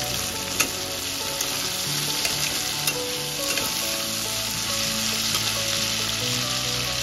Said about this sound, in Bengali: জিরেটা একটু ভাজা ভাজা হয়ে গেলে